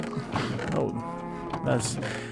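Minecraft cows lowing in a hardcore farm pen, two or three drawn-out moos close by, with a faint creak in between and no talk.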